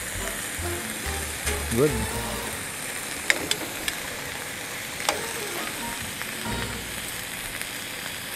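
Seasoned pulled pork adobo flakes refry in a pan with a steady, close sizzle, occasional utensil clicks and stirring, and someone speaking briefly over the crackle.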